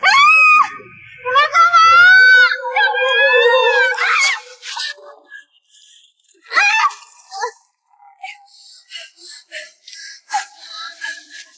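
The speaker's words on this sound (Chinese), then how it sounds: "装作惊恐的尖叫起来。" A girl lets out a high, wavering scream of feigned fright in a scene from a horror drama, rising into sustained wails, then followed by short gasping and whimpering sounds as the clip quiets.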